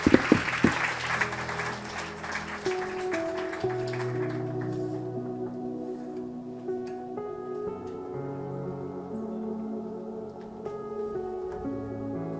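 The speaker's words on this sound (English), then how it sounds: "So please give her a warm, aglow applause" A church congregation applauds to welcome a woman pastor, a burst of clapping in the opening seconds that quickly thins and fades under sustained organ or keyboard chords.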